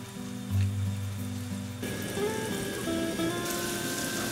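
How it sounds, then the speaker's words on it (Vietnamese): Lemongrass slices deep-frying in a pan of hot oil for a Thai-style fried chicken dish, a steady close sizzle and crackle, with a lower hum early on, growing busier and brighter partway through. "Tiếp tục dùng chảo dầu đang còn nóng thì mình cho sả vào chiên giòn."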